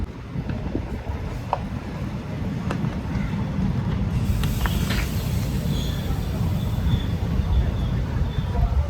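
Inside a crowded general-class coach of the Thrissur-Kannur Express, the moving train gives a steady low rumble with wind noise and scattered rattles and clicks throughout.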